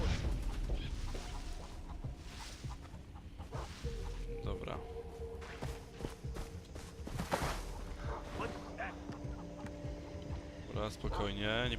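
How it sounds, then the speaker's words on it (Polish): Chickens cluck amid busy in-game ambience in Far Cry 3, with scattered calls over a steady mix of environmental and background game sounds throughout. "Cicho, kury głupie."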